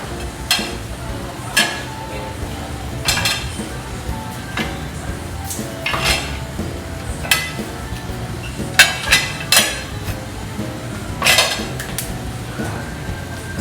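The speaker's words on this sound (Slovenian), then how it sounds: "Odpremo pomivalni stroj, vanj naložimo umazano posodo," Dirty dishes clink and clatter as they are loaded into a dishwasher one after another, with sharp ceramic and metal knocks at an uneven pace.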